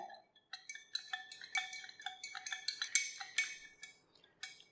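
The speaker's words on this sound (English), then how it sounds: "So I'm just stirring this a little bit" Small metallic clinks and taps from a mercury mixture being stirred in a container, a quick irregular series of light scraping knocks, close and quiet, with no talking.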